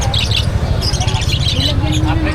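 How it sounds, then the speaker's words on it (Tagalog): Pet birds for sale at a busy pet market, scattered chirps and squawks over a loud, low rumble of market noise, with people talking nearby throughout. "Balikan natin yung mga ibon ni Boss Khaled."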